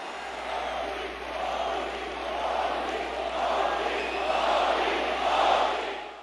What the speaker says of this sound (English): The crowd waved and chanted his name.